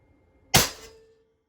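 A single sharp report from an AEA Challenger .35 caliber air rifle firing a 102-grain bullet, one abrupt loud crack that decays quickly, heard alone with no voices.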